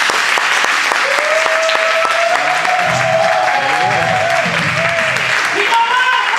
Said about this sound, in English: I just want you to start clapping your hands right now